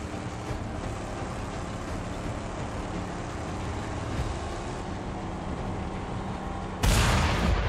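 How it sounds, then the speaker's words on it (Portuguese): Rapid bursts of gunfire in the video game Mad Max over a dense, rumbling battle din, ending with a sharp, louder crack near the end. "Aí agora mais um tiro nele e já era."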